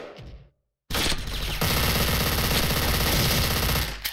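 Rapid automatic fire from an MP9 submachine gun in the video game Special Force, loud close bursts of dense shots running steadily for about three seconds after a brief silence.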